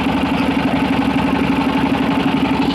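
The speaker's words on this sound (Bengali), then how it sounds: "ও খুব সুন্দরভাবে একটা বোট আমাদেরকে ক্রস করে গেল।" A boat's engine drones steadily as the boat crosses nearby, a loud, even hum with constant vibration throughout and no voices.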